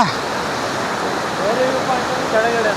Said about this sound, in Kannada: ಓಕೆ ಸೊ ನೋಡಿ ಇದೆ ಫಾಲ್ಸ್